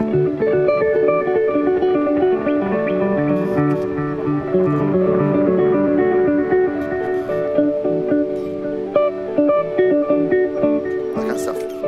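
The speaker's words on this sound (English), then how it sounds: "So that's the echoes." Electric guitar played through an echo effect on a live rig, a dense run of sustained, overlapping notes with repeating tails filling the clip continuously at a steady, fairly loud level, with no talking.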